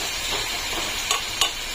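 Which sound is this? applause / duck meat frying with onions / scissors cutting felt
duck meat frying with onions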